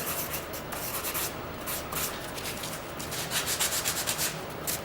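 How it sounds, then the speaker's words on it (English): Steady scratchy rubbing of a sandpaper sponge, brisk back-and-forth strokes close up, with no voices. "I can use my sponge sandpaper again and use it as an eraser"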